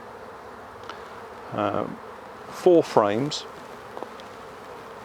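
Honeybees hum faintly through a 14 x 12 hive inspection, a soft steady drone that sits beneath intermittent talking.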